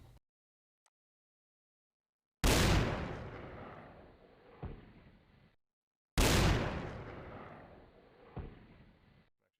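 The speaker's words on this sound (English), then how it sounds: "For the battle cannon, I've layered a sound that I've already made with this howitzer sound that has a nice little echo at the end" Two booming battle cannon blasts, each layering a howitzer shot with a trailing echo, fire a few seconds apart with loud sharp attacks that decay into rumbling tails and a faint secondary thump.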